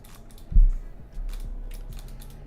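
A mechanical computer keyboard clacks in a scattered burst of keystrokes while playing a survival video game, with one sharper thump early on and lighter taps after; moderately close, no voices.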